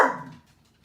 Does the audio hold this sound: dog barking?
yes